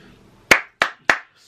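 Three sharp, close hand claps, evenly spaced with short silent gaps between them.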